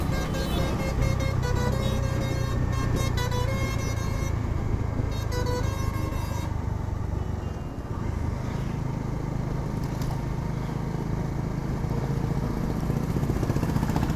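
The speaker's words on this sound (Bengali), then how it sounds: "এত জোরে হাওয়া হচ্ছে এখানে।" Strong wind buffeting a rider's helmet on a Bajaj Dominar motorbike on a highway, a loud constant roar with engine drone underneath and traffic, including passing buses, around it.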